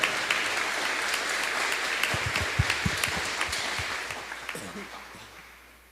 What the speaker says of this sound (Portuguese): Dá uma salva de palmas para eles, faz favor. Bate palmas.